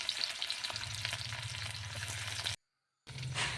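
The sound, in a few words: onions frying in hot oil in a wok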